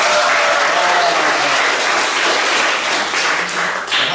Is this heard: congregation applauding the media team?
yes